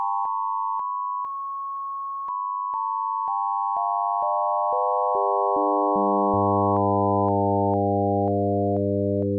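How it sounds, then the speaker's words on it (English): Pure synthesized sine tones step through a series of pitches, with stacked high harmonics layering in as the sequence builds, clean and steady with no voices. "Notice you can still hear a ghost of the bottom note even with just two high harmonics"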